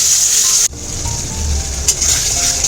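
Masala of onion and tomato sizzling and being stirred in a pan for an Odia fish head curry, a loud continuous fry with a sharp scrape and spoon movements partway through.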